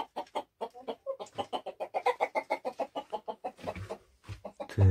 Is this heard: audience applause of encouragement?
no